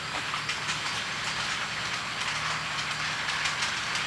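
A train runs along the rails toward an intermediate railway signal: a steady, fairly close rumble with continuous hiss that holds even throughout, with no talking.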